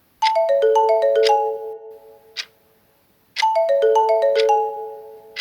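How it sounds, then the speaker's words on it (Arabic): Telephone ringtone playing a bright descending chime melody twice, loud and close, with a short gap of silence between the two rings. "التليفون رن."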